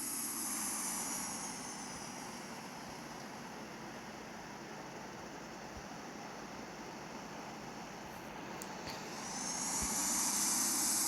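An airliner taxis on a runway in the Infinite Flight Simulator video game, its engines giving a steady broad roar that holds throughout and swells slightly at the end, with no talk.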